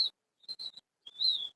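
Birds calling near a flock of pigeons being tamed outdoors: several short, high chirping calls in separate bursts, one near the start, a cluster in the middle and a longer call at the end, moderately close with no talk.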